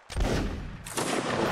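A musket volley cracks out in Mount and Blade, one loud burst followed by a second overlapping crash of shots, both rumbling briefly with no voices heard.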